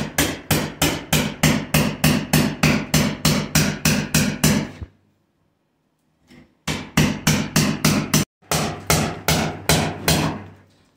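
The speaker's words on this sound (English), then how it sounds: "she's going to pull some plaster out when she gets this next couple of hits in" A hammer strikes old plaster on a bathroom wall during a renovation. Two bursts of rapid, evenly spaced heavy blows are heard close up with no talk, separated by a short pause and a brief knock.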